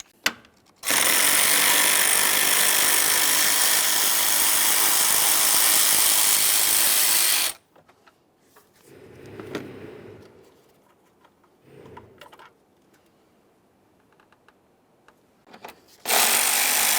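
A power tool whirs loudly and steadily for several seconds while loosening the 10mm fan mounting bolts on a 2015-2020 Ford F-150 3.5L V6, then quieter handling knocks follow and a second burst starts at the end.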